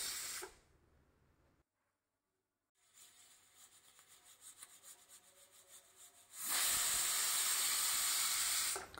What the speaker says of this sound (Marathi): स्लो फ्लेमवर 5 मिनटं वाफ येऊ द्यायची आहे